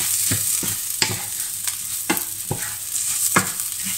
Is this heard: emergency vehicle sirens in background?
no